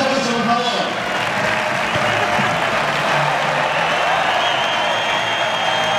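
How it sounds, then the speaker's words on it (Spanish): A crowd claps steadily through a marriage proposal gathering, with a dense wash of applause close by and faint voices mixed in beneath the clapping. "un fuerte aplauso, por favor"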